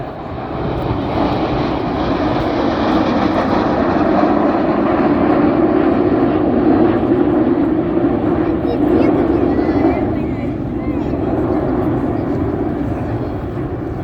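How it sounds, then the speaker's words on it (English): RAF Red Arrows display jets at RIAT 2024, RAF Fairford, fill the air with a loud, continuous engine roar that swells and holds for the full stretch, with a commentator talking over it. "Red 9 climbing high, smoking the red, white and blue as Enid join us and go off to our left hand side."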